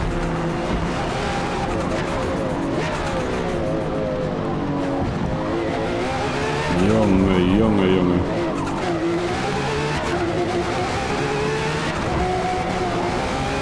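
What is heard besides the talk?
Lotus race car engine at speed, Forza Motorsport video game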